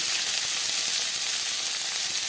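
Vegetables sizzling in hot mustard oil for a bread pakora filling, a steady, loud, close hiss of frying that runs unbroken with no voices.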